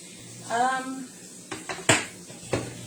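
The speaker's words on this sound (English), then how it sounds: "Let me set that down because it's a sharp knife." A sharp kitchen knife is set down on a counter while making a Philly cheese steak, giving a few short hard clicks and knocks after a brief murmur of voice.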